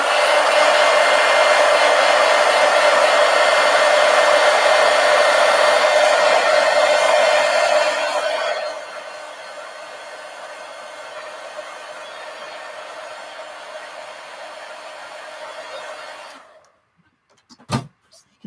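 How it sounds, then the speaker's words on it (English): A heat gun blows on a freshly painted craft piece, a loud steady whooshing drone that drops to a lower setting midway, then cuts off, followed by a couple of sharp clicks. "let me hit it with the heat gun and get it dry"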